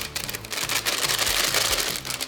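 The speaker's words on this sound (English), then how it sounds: "the yogurt powder, it's a powder, goes in, you zip up and give it a good shake" Japanese candy pieces being shaken hard inside a zip-top bag with yogurt powder, a continuous loud rattling and rustling burst with no talking.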